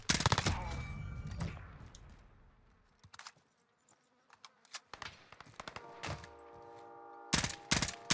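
M16 gunfire in the video game Warzone comes as short, sharp bursts scattered across the clip, loud at the start and again near the end, with quieter game ambience between the shots.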